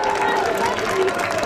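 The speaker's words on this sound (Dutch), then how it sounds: "Ik wil een heel groot applaus." An audience at a village Sinterklaas and Zwarte Piet celebration claps in a brief, dense burst, with a faint tonal undertone running beneath the applause.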